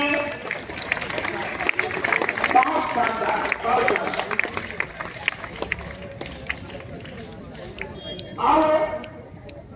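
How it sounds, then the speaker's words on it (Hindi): Applause for a teacher at a school science exhibition in Bara Hindu: a crowd claps in scattered bursts under a voice speaking, with a short louder swell of clapping near the end. "जबरदस्त तालियां मैडम के लिए"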